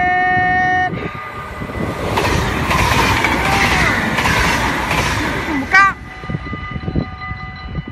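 A real train passes by close, a loud rushing rumble and rattle of wagons that builds and fades, with a short sharp whistle-like squeal near the end and people talking over the passage.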